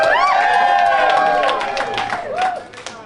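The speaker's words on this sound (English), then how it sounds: "it's lovely to get applause from the cheap seats" Live-show audience in the cheap seats at Walthamstow Trade Hall applauding, scattered claps mixed with voiced whoops and cheers that fade toward the end.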